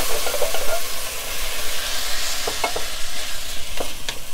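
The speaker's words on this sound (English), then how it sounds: "we're now ready to add in our can of diced tomatoes. So you want to add that directly to the pot." Canned diced tomatoes pour into a pot of softened peppers and garlic for a loaded lasagna, giving a steady wet sizzle and stirring noise with a few brief scraping knocks, close and continuous with no talk.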